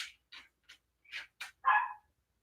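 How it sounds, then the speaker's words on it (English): Dog barking at a door indoors, a series of short, high yips and barks at irregular intervals ending in a longer whining bark, heard alone and moderately close. "Yep, because there she goes barking."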